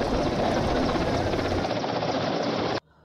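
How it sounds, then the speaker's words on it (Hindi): A helicopter battling a forest fire in Nainital, Uttarakhand, lifting lake water, roars loudly and continuously nearby with a thick rotor drone before cutting off abruptly near the end. "आज जिला प्रशासन ने हेलीकॉप्टर से आग पर काबू पाने का इंतजाम किए हैं"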